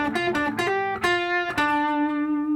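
Fender Jazzmaster Acoustasonic guitar on position 1 overdriven tone: a quick cluster of picked notes, then a few louder struck chords that sustain and ring out, close and bright, with no voices.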